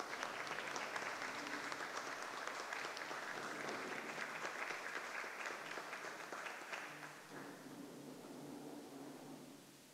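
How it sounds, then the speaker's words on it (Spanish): Sustained applause from a crowd, loud and dense at first, then gradually thinning and softening toward the end. "Un aplauso, por favor, aquí,"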